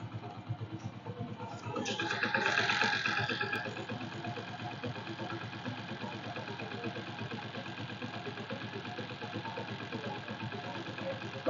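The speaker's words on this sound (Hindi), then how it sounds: "बाइक स्टार्ट होती है और ये ऐसे साउंड आता है इसके अंदर।" Motorcycle engine idling steadily after starting, with a loose kick-starter causing a rattling noise; a brief louder burst of the start rises early, then a constant rhythmic engine chug continues.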